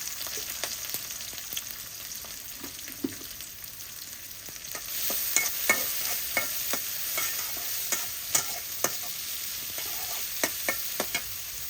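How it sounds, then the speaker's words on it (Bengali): Sliced onion and green chili fry in hot soybean oil in a pan. There is a steady, fairly quiet sizzle, and it grows busier partway through as the pieces are stirred and scraped. "গরম হয়েছে, পেঁয়াজ কাঁচামরিচ দিয়ে দিতেছি।"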